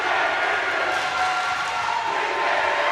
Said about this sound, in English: Attleboro student body now cheering